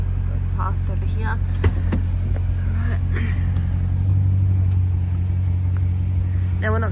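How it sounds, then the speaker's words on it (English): Steady low engine rumble of a car near a store dumpster area, swelling slightly in the middle as it drives past, with scattered chirps and clicks in the background. "I'm just going to wait till the car goes past over here."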